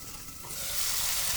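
Prawns stirred and sautéed in spice masala sizzle with a soft, steady hiss that swells slightly louder partway through, heard up close for a brief moment with no talk.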